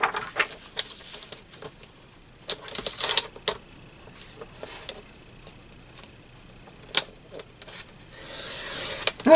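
A craft blade slices through paper for a junk journal collage: short, dry rasping strokes come in scattered bursts close by, with quiet gaps between cuts.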